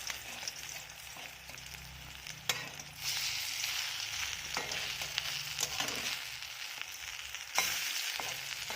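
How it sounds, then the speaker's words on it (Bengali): Shrimp and bran fritters fry in a pan over a steady, close sizzle, broken by a few sharp clicks and scrapes as they are flipped one by one. "এইগুলো বড়াগুলো এবারে আমি আস্তে করে উল্টে দেব।"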